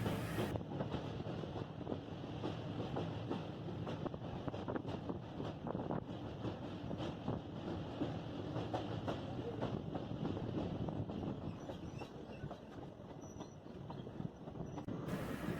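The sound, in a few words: passenger train running on track, Lumding to New Haflong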